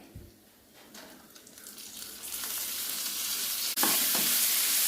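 Lentils and cashew nuts fry in hot oil, giving a steady sizzle that grows louder and denser over the few seconds, with one brief stir or scrape near the end; nobody speaks.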